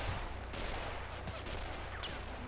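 A 37 mm tank gun fires in the Men of War video game, with dense booming shots and crackling gunfire over a roaring battle background, loud and continuous throughout.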